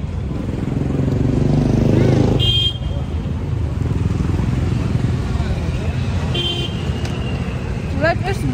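A motorcycle rides past on a busy road, its engine droning near and steady amid traffic noise with a couple of short horn toots, while people talk over it.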